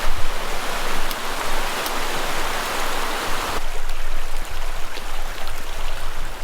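Rushing water pours continuously in a loud, broad roar from a waterfall heard close by on New Zealand's North Island.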